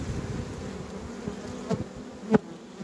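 Honeybees buzz steadily and close while being transferred from a small nucleus box into a full hive, with two soft knocks from the equipment near the end.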